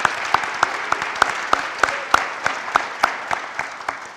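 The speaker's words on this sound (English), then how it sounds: "let's give it one more round of applause for all of our wonderful award recipients today" An audience at a university service-awards celebration applauds the award recipients, a steady wash of many hands with a few distinct near claps standing out in a regular rhythm.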